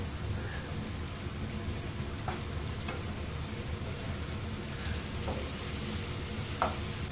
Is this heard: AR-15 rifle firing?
no